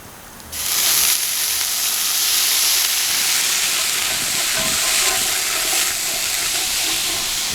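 A pot of gumbo erupts into a loud, sudden sizzle and steaming hiss as ingredients hit the hot pan, then keeps up a sustained close roar of frying.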